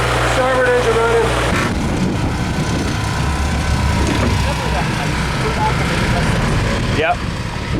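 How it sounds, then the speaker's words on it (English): A boat's port and starboard engines idle together during a sea trial, a steady low rumble running throughout after a brief opening hum, with no talk over it. "Got the port engine running. Starboard engine running."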